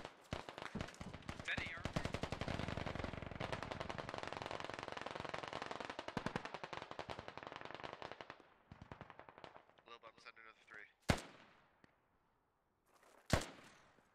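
Sustained machine gun fire during a military video game battle on a hilltop compound, dense rapid bursts for about eight seconds, then thinning out to a few isolated loud shots amid near silence.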